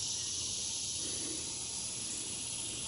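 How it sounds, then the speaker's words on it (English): Cicadas outside a farmhouse porch on a nice day, a loud, unbroken high-pitched droning buzz held steady throughout. "It's a nice day here, the cicadas,"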